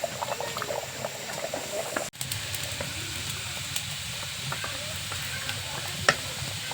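Beef curry cooked with khoya kheer and ghee simmers steadily in a pot as whole potatoes go in, giving a continuous bubbling sizzle with small stirring clinks and a brief dropout partway through.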